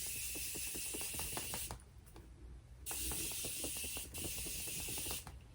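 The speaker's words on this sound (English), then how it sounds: "I'm gonna use my Morphe Continuous Setting Mist and just spray that down real quick" Morphe Continuous Setting Mist sprays onto a face in three long, close hissing bursts separated by short pauses, with faint clicking from the pump between them.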